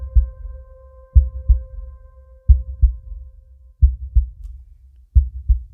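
Heartbeat sound effect opening a radio show, deep paired thumps repeating at a slow, steady rhythm about every 1.3 seconds, with a faint tonal hum fading behind the first few beats.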